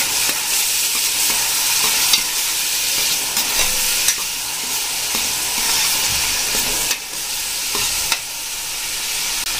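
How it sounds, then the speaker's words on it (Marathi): Chopped onion frying in butter for pav bhaji, stirred in a hot pan: a steady, close sizzle with occasional scraping clicks of the spoon, continuous and fairly loud throughout. "आता मी त्याच्यामध्ये बारीक केलेला कांदा पण ॲड केलेला आहे। आता आपल्याला छान प्रकारे हलवायचं आहे।"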